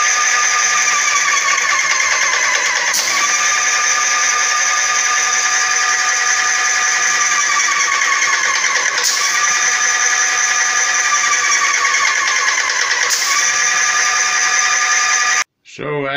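A Dino-Power DP6318 airless paint sprayer pump runs continuously with a loud, steady tonal drone and harsh buzz, pulsing briefly about every five seconds before cutting off abruptly near the end.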